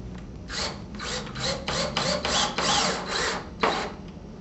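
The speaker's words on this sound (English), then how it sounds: "through the frame, through the drywall, and into the stud. And now we can insert our screw." A screw is driven through a track frame and drywall into a wall stud, giving a series of close, rhythmic rasping bursts from the driver, about eight pulses in quick succession with brief gaps between them.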